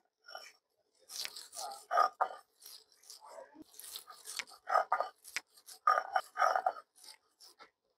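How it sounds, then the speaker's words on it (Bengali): Mustard leaves are ground together with fish on a stone slab, producing a close series of gritty scraping and crushing strokes in uneven bursts, with no talking. "এখন আমি পাতা বেটে নেব। পাতার সঙ্গে আমি মাছ মিশিয়ে নেব।"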